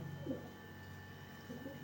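Pigeons kept for sale coo softly in a loft, two low murmuring calls, one near the start and one near the end, over a faint steady hum.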